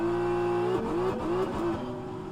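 Engine of the GSI Hyper P1 race car in a racing video game firing up on the starter, then revving in sharp rising and falling bursts before settling into a steady idle, loud and close with no talk.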